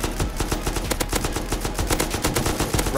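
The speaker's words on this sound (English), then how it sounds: "Wow, this M249 is amazing." An M249 machine gun fires in a long, rapid, unbroken automatic burst during a Rust video game match. The shots come loud and close, with no talking over them.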